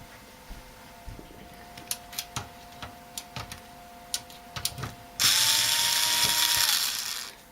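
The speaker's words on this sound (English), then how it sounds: "let's grab my screwdriver and we'll take this thing out" A screwdriver unscrews a TiViBox, producing soft irregular clicks and ticks close by, followed by a louder steady whirring stretch near the end.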